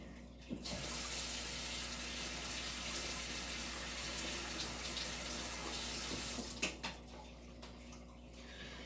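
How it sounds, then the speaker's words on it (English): Tap water running into a sink while a paintbrush is rinsed, a steady close hiss of flowing water for several seconds, then cutting off into a few faint drips and clinks. "I need to go rinse off my paintbrush real quick"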